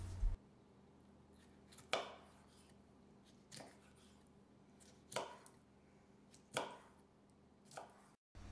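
A knife cuts through three or four stacked jalapeños on a cutting board, giving five distinct crisp chops at a slow, steady pace, spaced well apart with quiet gaps between.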